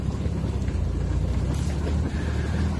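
A 1961 Jaguar E-type series 1 roadster with a 3.8 litre engine ticks over at 500 rpm, a steady low rumbling idle close to the microphone, with no voices and a little wind noise.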